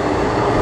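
A passenger ride aboard the Puffing Billy train in the Dandenong Ranges near Belgrave, heard as a loud, continuous rumbling roar of the moving carriage with no talk.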